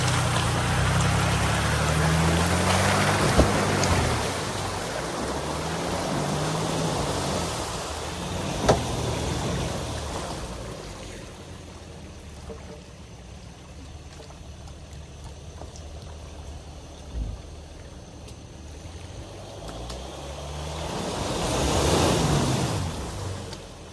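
An off-road vehicle drives through a hard-bottomed water hole on a rough trail and climbs out, with splashing and engine surges that swell at the start and again near the end.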